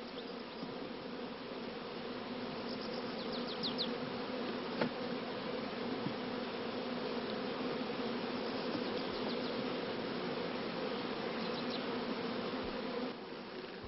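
Honeybees buzzing around an opened hive during queen selection, a continuous dense hum of many insects close by, steady throughout with no voices.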